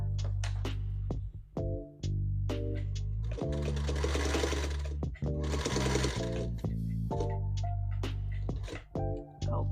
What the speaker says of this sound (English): I want my stitching line to come all the way up to that quarter inch, and then I'm going to stop.